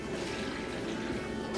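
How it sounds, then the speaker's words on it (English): Plain tap water pours into a vacuum bag inside a chamber vacuum sealer, making a steady, soft splashing trickle for a brief moment. "I'm just going to use plain water. Just drop it inside my bag."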